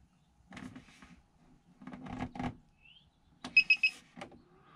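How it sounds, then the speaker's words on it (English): Three short, bright electronic beeps in quick succession from a MaxxFan vent fan control switching to auto, preceded by a few soft clicks and bumps of handling. "You heard the 3 beeps."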